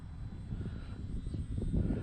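An FMS Ranger 1220mm RC plane flies nearby with its propeller engine droning steadily, a loud, rumbling, slightly fluctuating whir with wind buffeting, and no speech.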